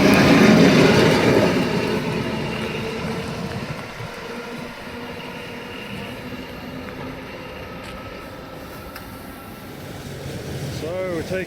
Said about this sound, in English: taking the ferry across the Gulf of Kotor, heading north